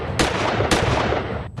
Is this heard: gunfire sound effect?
yes